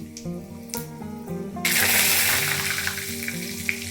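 Bay leaf and asafoetida hit hot oil, a soft clinking start giving way to a bright, steady sizzle that stays loud and close throughout.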